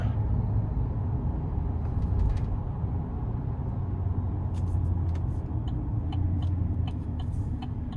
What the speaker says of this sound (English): it drives pretty well for it to be this big of a pickup